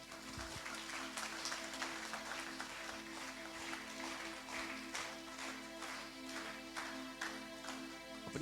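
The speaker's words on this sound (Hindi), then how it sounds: "एक बार जोरदार ताली बजाओ।" A church congregation claps loudly and steadily during a Hindi-language worship service, sharp dense claps sustained over a sustained tone, no voices heard.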